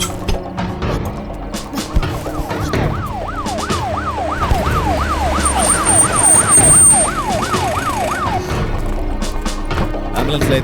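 A wailing ambulance siren sweeps up and down rapidly amid traffic noise, with voices talking over it.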